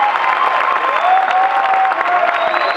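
Audience applause in a hall, a loud dense wash of clapping with a hint of cheering, sustained evenly for a few seconds with no clear speech.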